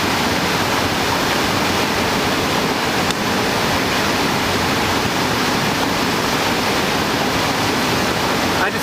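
Stevens Creek water rushing in a steady, dense roar, heard close and loud without a break, with no voices over it.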